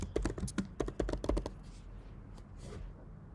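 Fast typing on a computer keyboard, a close flurry of crisp key clicks for about a second and a half, then a few scattered quieter taps.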